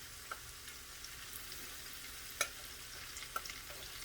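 Quiet, steady sizzling of okra frying in hot oil, with a few sharp pops and crackles scattered throughout.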